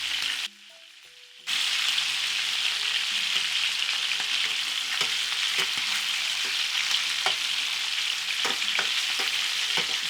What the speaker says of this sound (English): you want to give them a chance to sear on the other side